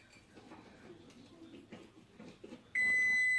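An oven or kitchen timer gives a single sharp electronic beep that rises suddenly and holds at the end, following quiet background movement while headlights are being baked for a halo retrofit.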